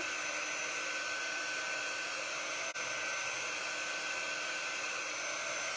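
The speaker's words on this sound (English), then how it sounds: "So this tool is a heat tool, but it doesn't get really, really hot. It's just used to speed up your drawing." A heat tool blows steadily to dry a drawing, giving a loud, continuous airy whir like a hair dryer with one brief dip partway through and no talking.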